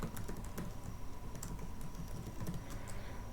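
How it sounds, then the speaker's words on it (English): Code is typed on a computer keyboard as a continuous run of quick, close key clicks, unbroken and without talk, over a quiet background. "to add the entry point, I will simply type graph.set entry point"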